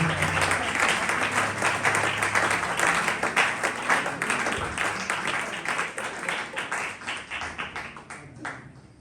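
A church congregation at a Christmas Day worship service breaks into sustained, dense applause, loud and steady throughout, slowly thinning toward the end.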